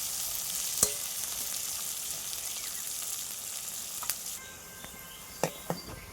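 Chopped onions fry in a pan toward reddish brown, holding a steady, moderately quiet sizzle with occasional sharp ticks and pops. No one talks.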